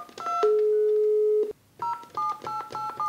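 Telephone tones from a phone on a crossbar switching system under repair: one long steady tone, a brief break, then a run of short, evenly spaced tone bursts, close and clear.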